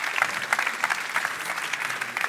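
Audience applause at a developer conference after a talk, a short burst of dense clapping from a seated crowd with no voices over it.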